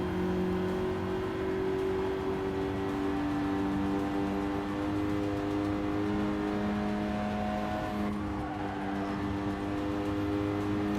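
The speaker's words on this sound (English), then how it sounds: "the EcoBoost engines aren't known for good sound. And this sounds pretty meh" Ford EcoBoost engine in Gran Turismo 7, holding a steady, droning rev with sustained harmonic tones that shift slightly in pitch, continuous and fairly quiet throughout with no talking.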